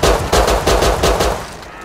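Rapid gunfire in the video game Rust, a quick burst of about six loud, close shots in an even rhythm, with no talk over it.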